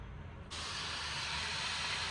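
Ghee and carrots hit a hot pan over a gas flame, bursting into a steady, even sizzle after a brief quiet moment and hissing continuously to the end.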